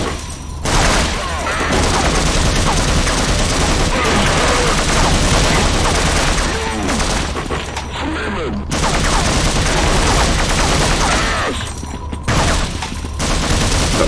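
Enemy weapons fire in a Unity-made Half-Life demake, a loud, dense barrage of rapid shots that runs almost continuously with only brief lulls.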